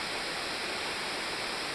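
Waterfall on a tributary of the Isabel River, spilling over stone steps with only modest flow, heard as a constant, even rushing hiss that fills the moment without voices.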